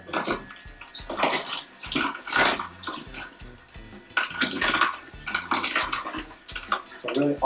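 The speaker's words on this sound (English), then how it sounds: "all you're hearing with a slow juicer is just the crushing and the breaking down of the vegetable" A slow juicer crushes and breaks down vegetables in a kitchen, giving irregular grinding, cracking bursts that come and go, loud and close, over a faint background.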